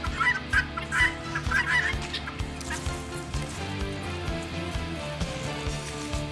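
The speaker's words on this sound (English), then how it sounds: "Oh, and here come the guineas." Guinea fowl call while approaching outdoors, a chorus of harsh rhythmic cackles and honking cries, fairly close and continuous.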